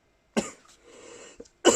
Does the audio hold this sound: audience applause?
no